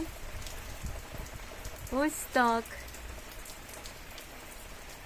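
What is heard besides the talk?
rain falling outside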